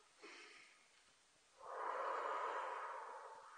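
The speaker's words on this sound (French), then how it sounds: "vous prenez une grande respiration" A person draws a long, deep breath, a soft airy inhalation that swells and holds for a couple of seconds after a brief quieter breath, close and faint in a quiet room.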